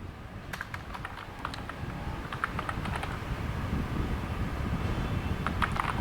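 Steady keystrokes on a computer keyboard while entering text in a word processor, with clicks coming in quick uneven bursts over a low background hum, close and fairly soft.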